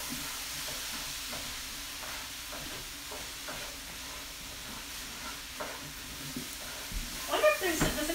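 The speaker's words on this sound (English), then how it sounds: "we're just going to go ahead and stir" Pumpkin seeds crisping in a pan over high heat, stirred with steady scraping strokes over a constant sizzle, with a voice speaking near the end.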